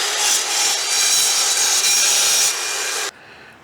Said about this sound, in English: now let's cut through a piece with the jillion nails and screws in it